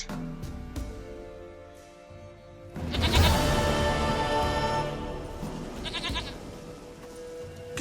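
A goat in The Witcher 3 video game bleats loudly and close, a wavering cry rising over a soft ambient backdrop with a few small clicks and rustles.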